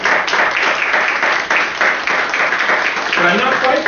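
Audience applause for a priest at an essay contest award presentation, a steady wash of clapping that sits under a voice talking over it.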